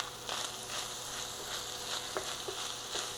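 Seasonings with pepper and salt are stirred together in a hot pan, giving a soft, faint sizzle with a few light scrapes and clicks of a utensil, and no speech.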